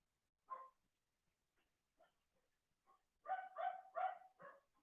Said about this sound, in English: I think the dogs are about to come out.